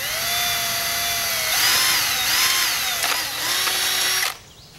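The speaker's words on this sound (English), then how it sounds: "take our drill and we're gonna drill a 1/4 inch hole" A power drill whines steadily as it bores a 1/4 inch hole near the top of a lure retriever, the motor pitch rising and dipping under load for about four seconds before cutting off abruptly.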